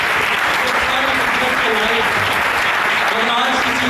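A church congregation at a convention and prayer-week sermon breaks into loud, sustained applause that fills the room evenly for several seconds, with no break in the clapping.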